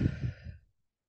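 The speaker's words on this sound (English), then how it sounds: "Deep breath." A single deep breath taken during a laughter yoga session, a soft, close exhalation sigh lasting under a second before silence.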